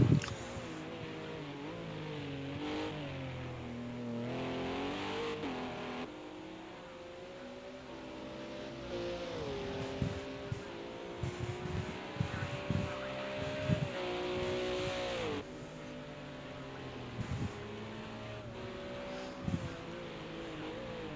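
GT4 race car at Red Bull Ring during qualifying, its engine tone sweeping down steadily as it brakes hard from high speed for a turn, loud and close throughout with shifting harmonics.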